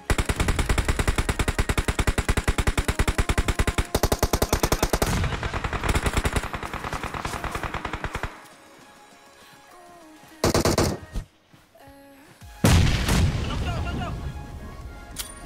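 Gunfire in the mobile battle royale game PUBG Mobile: long, rapid bursts of loud automatic fire, a pause, then more short and sustained volleys, with a player speaking in places.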